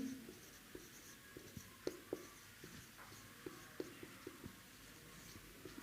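A pen writes math equations by hand on paper, a quiet steady scratching with a dozen or so distinct taps and strokes spread irregularly over a few seconds, close and faint.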